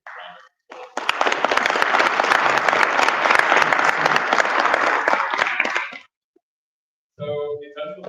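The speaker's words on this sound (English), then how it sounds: "Big round of applause." At a Shark Tank–style pitch event, an audience breaks into a loud, dense burst of applause lasting about five seconds that cuts off abruptly, with a voice speaking briefly before and after.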